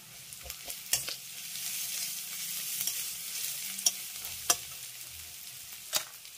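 Onion, poppy seeds and grated ginger sizzle steadily in a pan for an eggplant dish, while a spoon scrapes and taps against the metal every second or so, close up.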